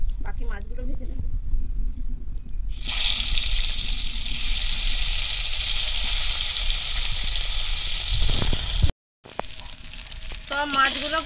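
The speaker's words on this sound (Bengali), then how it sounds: "আবার একটু তেল দিয়ে দিলাম, বাকি মাছগুলো ভেজে নেব।" Fish frying in hot oil in a pan for a Bengali fish curry, a steady bright sizzle that carries on for several seconds, breaks off briefly, then starts up again under speech.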